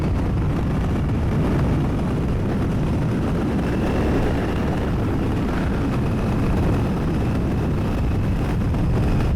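A Royal Enfield Bear motorcycle engine revs and pulls steadily under acceleration, a loud continuous low-pitched roar mixed with wind rush that holds throughout without talking.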